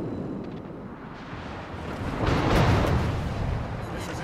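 A warship's main battery guns fire armour-piercing shells in a naval combat video game, a deep rumbling boom swelling midway over a constant low roar.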